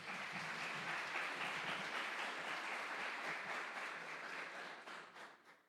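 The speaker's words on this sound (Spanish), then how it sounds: "Dele un aplauso al Señor." A church congregation applauding together, a dense, steady wash of clapping from many hands that fades out at the end, heard without any talk over it.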